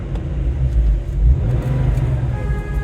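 A 993-generation Porsche 911 Twin Turbo driving on the road gives a loud, deep engine rumble from inside the car, swelling briefly as it accelerates.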